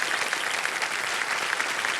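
A studio audience on the quiz show Kaun Banega Crorepati claps continuously in a bright, even wash of applause, with no voices rising above it.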